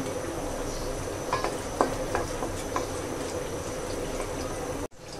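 Three dried red chillies fry in oil left over from frying onions for chicken kala bhuna, a steady close sizzle with a few sharp ticks and spatters, cutting off abruptly near the end.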